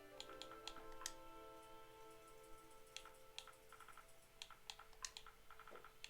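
Soft, rapid clicks and ticks from entering letters on an on-screen keyboard with a D-pad in Palia, irregular taps scattered over gentle background music, faint and steady with no voices.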